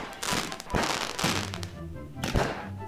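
Fireworks and firecrackers going off in the game Garry's Mod: a rapid series of sharp cracks and bangs with fizzing and crackling between them, moderately loud and close.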